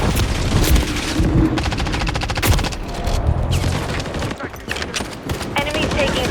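Rapid automatic gunfire from a Call of Duty: Modern Warfare 3 multiplayer objective match, loud and close, with dense bursts and fusillades running throughout and brief lulls, mixed with game effects and faint background voice chatter.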